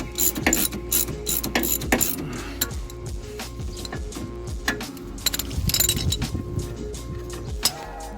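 A ratchet spanner clicks repeatedly while undoing an anti-roll bar bolt on a 2010 BMW 525d, giving bursts of close metallic ratcheting with clinks of tools and parts between them and no talk.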